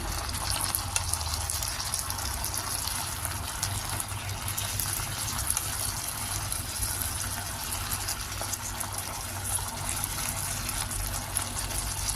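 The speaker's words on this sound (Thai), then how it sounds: "ผัดจนผักสลดไปเรื่อย ๆ นะคะ" Vegetables stir-frying in a hot pan for an Indian-style Chinese broccoli dish, an even, continuous sizzle with faint scraping, steady and close with no talking.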